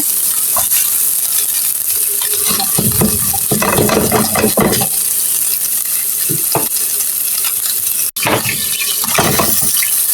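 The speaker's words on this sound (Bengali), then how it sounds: "টাকি মাছগুলি সুন্দর লাল লাল করে ভেজে নিচ্ছি" Taki fish frying in a pan give a steady, close sizzle, with a few louder stirring and scraping clatters partway through and no voices.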